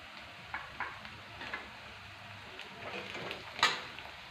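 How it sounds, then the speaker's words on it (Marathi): Coriander and peanuts roast in hot oil for kande pohe, giving a faint, soft sizzle with a few light stirring taps and one sharper clink near the end. "आपण इथे कोथिंबीर तेलामध्ये भाजून घ्यायची आहे शेंगदाणे भाजून घेतले होते ते देखील यामध्ये ॲड करून घेऊयात"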